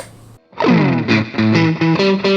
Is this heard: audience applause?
no